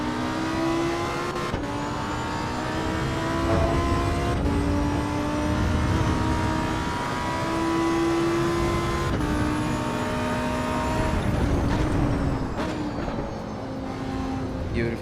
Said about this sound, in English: Let's get the sound a little louder as we accelerate here